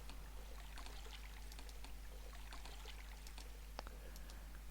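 Water pours steadily into tubes in the puzzle game AE Mysteries, a soft continuous trickle with faint splashes over a low hum, quiet and unbroken throughout.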